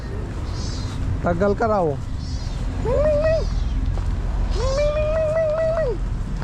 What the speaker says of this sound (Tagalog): Salubong naman sa ate yung mga ano, alagang pusa.